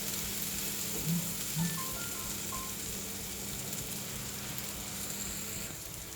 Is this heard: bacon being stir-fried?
yes